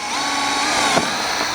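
A power drill bores through the roof of a 2021-or-later Ford F-150 SuperCrew, a steady close whine running throughout with a slight surge near the end as the bit breaks through.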